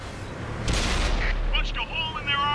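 A tank gun firing in World of Tanks on PS4 from a Centennial T-95, a single heavy boom with a rumbling tail, followed by shorter whistling and mechanical in-game effects.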